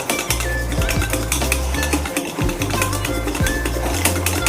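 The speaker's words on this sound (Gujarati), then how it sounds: "અને એકદમ સારી રીતે હલાવી લેવાનું છે." Khaman batter being stirred briskly in a metal pot right after baking soda goes in, a steady run of close scraping and clinking strokes against the vessel, with no voices.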